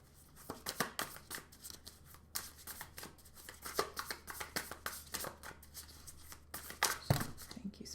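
Light Seers Tarot cards being shuffled by hand, a run of quick riffling snaps and soft slides in uneven bursts, close and fairly quiet.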